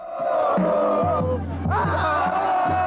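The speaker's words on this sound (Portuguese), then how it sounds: "Era uma multidão ensurdecedora." A deafening stadium crowd roars and chants in unison outside and inside the ground at a football match against Argentina, loud and sustained, with rhythmic shouted surges.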